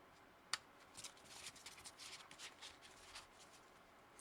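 Cards are shuffled close up in a quiet room, a sharp snap followed by quick riffling bursts of crisp papery flutter.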